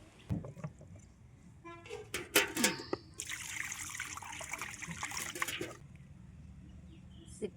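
Water runs and splashes while chicken and mutton meat are washed clean in a home kitchen, a steady broadband wash lasting a few seconds between scattered clatters.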